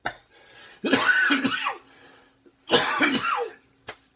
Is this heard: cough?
yes